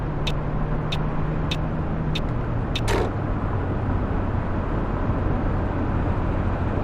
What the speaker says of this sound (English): these trucks are pulling out